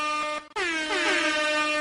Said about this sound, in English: Those are my air horn noises.